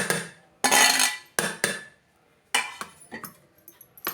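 A whisk or spoon clatters fast against the sides of a bowl as a spiced mixture is beaten, in loud close bursts separated by short pauses.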